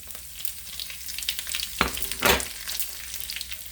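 Finely chopped dried red chillies and fennel seeds frying in hot oil, giving a steady crackling sizzle with a sharp scrape and a brief louder burst of spattering as they hit the pan.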